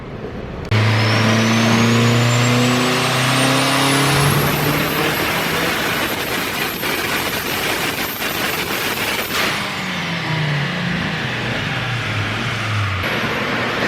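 A Dodge Spirit R/T with an SRT4 engine swap makes a loud dyno pull, the turbocharged engine climbing steadily in pitch to a sustained high-rev roar before dropping back to a lower idle, with no talking.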